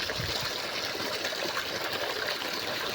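Water runs steadily from a motor pump in a village, a loud, continuous close-up rush and trickle with no breaks and no talking.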